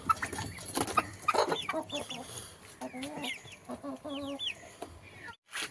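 Chickens kept as backyard poultry cluck in short bursts, with a few sharper calls near the end. The birds sound close and fairly loud, with some faint background noise.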